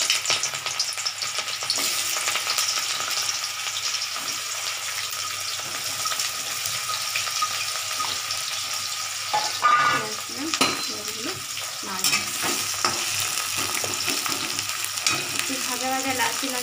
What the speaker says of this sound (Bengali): কড়াই তেল গরম হয়ে গেছে, এবার আমি পেঁয়াজগুলো দিয়ে দেবো।